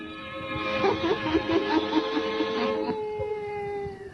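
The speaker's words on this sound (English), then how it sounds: "And now let us join old Nancy and Satan, her wise black cat" Black cat in an old-time radio horror drama, meowing and caterwauling in a drawn-out, wavering wail that rises and falls for a few seconds before trailing off, close and prominent with no talk over it.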